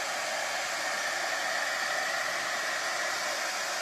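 A hair dryer blows steadily over a handmade snow globe scene, a loud, continuous airy whoosh that holds unchanged for the whole stretch with no voices.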